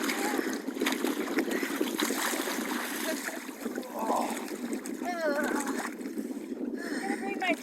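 Water splashes and sloshes from an outdoor shower on the deck of a sailboat, a steady spattering stream under excited voices and laughter, with wind and sea noise around.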